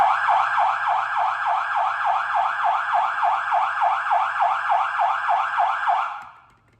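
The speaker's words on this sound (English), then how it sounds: "So, lights and sirens." A fire truck's siren wails loud and close in a steady rapid yelp, dozens of quick rising sweeps repeating evenly over an engine hum, then cutting off abruptly near the end.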